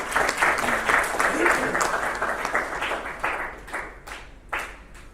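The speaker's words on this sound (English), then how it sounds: "Can we have a big round of applause?" An audience at the International Doctor's T20 League cricket tournament closing ceremony in Dubai breaks into full, loud applause that rolls on evenly, then thins into scattered individual claps in the last seconds.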